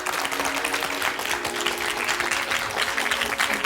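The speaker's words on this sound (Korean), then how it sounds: "박수로 맞아주십시오." Studio audience giving warm, sustained applause as a guest arrives on a television show about a reunited family, a thick continuous roar of many clapping hands with faint voices underneath.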